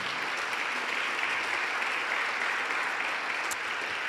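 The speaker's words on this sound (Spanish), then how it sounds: "Denle un fuerte aplauso al Señor." Congregation applauding in a church service, an even, sustained wall of clapping from many hands, steady and fairly loud for the whole stretch.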